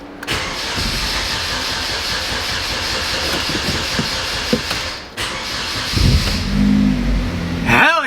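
After sitting abandoned, a turbocharged Genesis car engine cranks and fires, giving a loud, steady close-up roar with hissing over several seconds and a rougher, deeper surge near the end.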